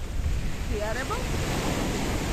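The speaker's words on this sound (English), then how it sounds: "What a shame that it's such a windy day." Steady wind buffets the microphone throughout, a low roaring rush with a faint voice briefly audible underneath, outdoors in Paphos.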